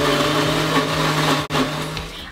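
Electric mixer whipping egg whites, a loud steady motor whir with a humming drone and a brief dip partway through, close up.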